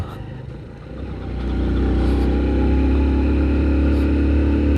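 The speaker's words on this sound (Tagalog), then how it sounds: "tingnan natin kung kaya ba to ng tricycle hanggang dun sa ibabaw na sa Mount Banoy" A motorized tricycle engine labours uphill on the road up Mount Banoy in Batangas City, its low drone rising after a brief dip, then holding a loud, steady strain close by.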